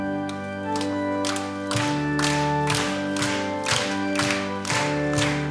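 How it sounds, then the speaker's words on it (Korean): A church congregation claps in rhythm while singing a hymn together, steady hand claps landing roughly every half second over sustained organ or keyboard chords and massed voices. "같이 박수하면서 찬송하고요"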